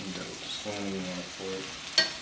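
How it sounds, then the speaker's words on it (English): Onions, red pepper and Scotch bonnet with garlic and ginger sautéing in a pan, a soft steady sizzle at moderate heat with a brief utensil clink near the end. "we're gonna let these things saute really nicely"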